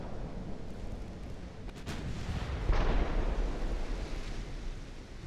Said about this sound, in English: I've got Mark 5 13-inch guns now